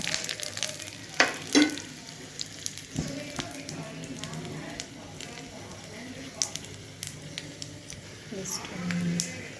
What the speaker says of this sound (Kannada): ಈರುಳ್ಳಿ, ಕರಿಬೇವು, ಮೆಣಸಿನಕಾಯಿ ಹಾಕಿದ್ದೀನಿ. ಒಂದು ಒಗ್ಗರಣೆ ಕೊಡೋಣ.